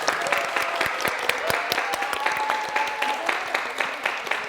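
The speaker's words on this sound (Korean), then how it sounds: "나눔으로 이웃사랑을 실천한 이분께 여러분 아낌없는 박수 한번 크게 보내주세요" A small studio audience on a Korean news talk program claps, producing scattered, distinct hand claps at moderate volume over a faint sustained tone, steady and unbroken.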